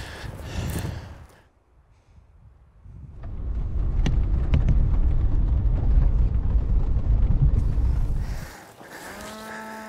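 Cattle low a few times in open Nevada country near a spring, with a long stretch of loud wind-like rushing between the calls.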